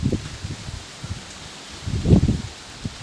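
Wind gusts from a typhoon rustle banana leaves in irregular bursts, loudest near the end, with soft flapping and brushing close to the microphone.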